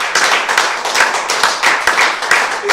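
Congregation at a youth Protestant church service applauding together, a dense and steady wash of many hands clapping that pulses slightly and fills the room.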